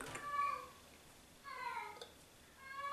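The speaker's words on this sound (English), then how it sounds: "we've just heard the odd meow, meow" A cat meows several times, three drawn-out wavering cries spaced across a few seconds, fairly faint against a quiet indoor background.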